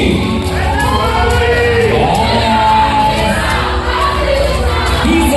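A school crowd at a televised children's sports competition cheers and shouts loudly, a continuous roar of young voices with whoops and yells.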